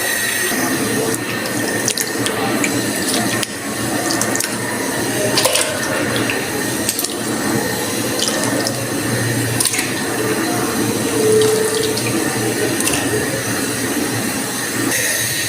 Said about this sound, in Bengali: আলু এখানে রসুন সব আমি এখন ভালো করে ধুয়ে নিব।